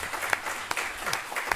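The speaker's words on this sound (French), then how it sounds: "je propose qu'on l'applaudisse encore une fois pour le plaisir qu'il nous fait d'être là" Audience applause for the lecturer at an inaugural university chair lecture, a dense continuous patter of many hands with a few sharper, closer claps standing out.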